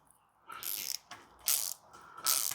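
A thread tap being turned into metal gives three short ratcheting, grinding bursts separated by pauses, close and fairly quiet, with no talking.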